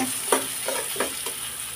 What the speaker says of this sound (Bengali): আর দিয়ে দিব কিছু কাঁচামরিচ কুচি। দিয়ে একটু নেড়ে চেড়ে নেব।